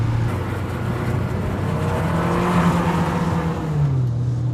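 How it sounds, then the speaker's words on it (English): A BMW E30 M3 Sport Evo with its 2.5-liter engine revs hard and pulls steadily, the engine note holding loud and close before climbing in pitch near the end. "this engine just pulls and pulls and pulls and pulls"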